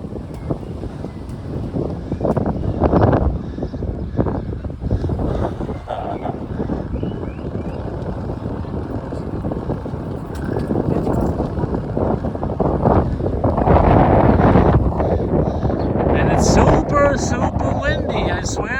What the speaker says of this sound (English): Super windy, I swear to God.